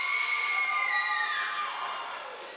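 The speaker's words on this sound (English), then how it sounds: "A round of applause." Community debate audience at a local municipal election forum cheering and shouting, a loud crowd roar with a high whistling or shrieking tone sliding downward, fading slightly toward the end.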